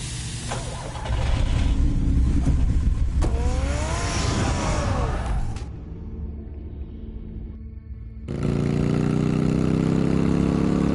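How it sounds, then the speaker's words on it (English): A car engine in a Batman video game idles and revs at close range, running loud with shifts in pitch, briefly dropping away and then surging back steady and strong, with no talking. "Get the car ready, Alfred."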